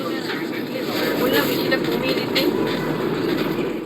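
Steady rumble of the Vande Bharat Express rolling into Cuttack Junction, loud and continuous with a broad low roar and some rattling, and faint voices mixed in.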